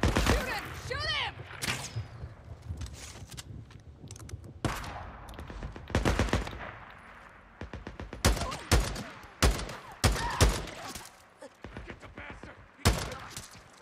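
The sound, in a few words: gunfire shooting renegades in the video game Days Gone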